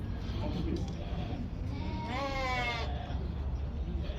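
A goat gives a single wavering bleat partway through, rising out of the steady crowd murmur and background chatter of the Kyzylorda livestock market, where sheep and young goats are being sold.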